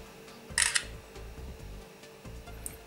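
An LG Optimus G phone camera fires its shutter in time catch shot mode, giving a brief bright click burst near the start and a fainter one near the end, over a low steady background.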